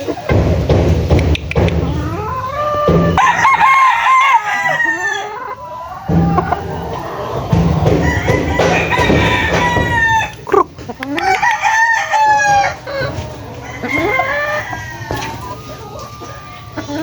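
Several 8-month-old stag roosters crow loudly and repeatedly, long drawn-out calls overlapping with nearby clucking, with a bit of background talk.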